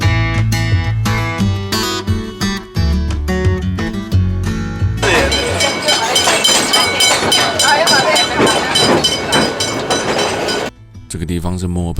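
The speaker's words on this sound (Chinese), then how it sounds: "坐上古董蒸汽火车来感受一下不一样的墨尔本的另外一种生态环境之旅哦" Music plays first, then an antique steam train running through the Dandenong Ranges near Melbourne rumbles and clatters loudly and continuously, with the music still mixed in.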